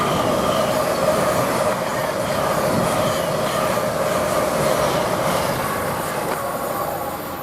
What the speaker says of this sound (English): I've got another LNER coming through, Zoomer.